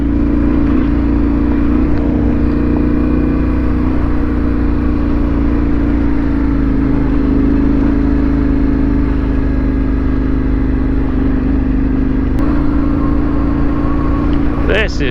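Trail motorcycles on a group trail ride roll downhill, with a steady, loud, close engine drone that carries on without a break. Faint wind noise sits over it and a brief knock comes near the end.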